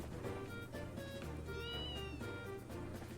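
A cat meows, its wavering cries rising and falling over low droning music in the background.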